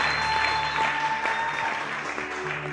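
A church congregation at an Easter service applauds and cheers loudly and continuously, a dense wash of clapping with voices rising over a sustained tone beneath.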